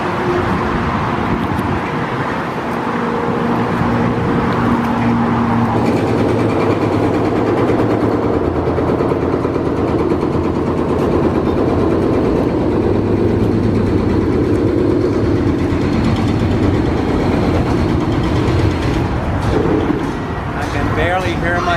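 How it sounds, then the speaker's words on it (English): Heavy traffic crossing the I-75 bridge over the Braden River, with construction work nearby, makes a loud, unbroken roar of engines and tyres that stays close and dense throughout. "Construction work going on and lots of traffic,"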